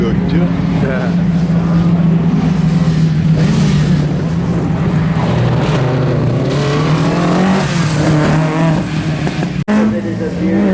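A rear-wheel-drive Skoda rally car drives a stage at a Race Retro event, its engine roaring loud and sustained with shifting pitch, while voices talk over it.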